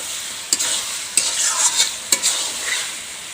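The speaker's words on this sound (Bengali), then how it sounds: "টমেটো দিয়ে আবারও ভালোভাবে কষে নেব।" Chopped tomatoes with chicken and potatoes sizzle and hiss in a hot pan for village-style desi chicken curry, with a few sharp scrapes of a spatula stirring them close by.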